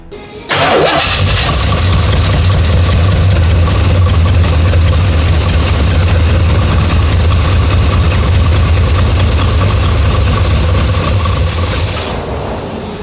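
A 1979 Pontiac Trans Am's long-unused 6.6-litre Oldsmobile 403 V8 cranks and catches, then settles into a loud, steady, rumbling idle that runs for several seconds before cutting off.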